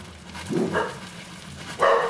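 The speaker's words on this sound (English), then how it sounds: "my dogs are going nuts" Dogs bark from a short distance off inside a home kitchen where bread is being made, with a couple of muffled barks early and a louder one near the end.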